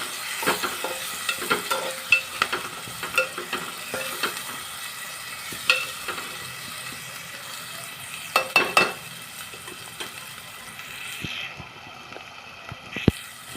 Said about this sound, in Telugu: అల్లం వెల్లుల్లి పేస్ట్ కూడా మంచిగా ఫ్రై అవ్వాలండి ఆయిల్లో